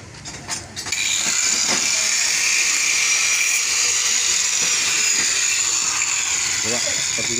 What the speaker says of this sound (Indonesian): Dibor lagi nih wak, dibor.